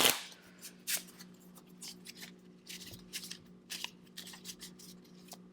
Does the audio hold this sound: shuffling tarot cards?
yes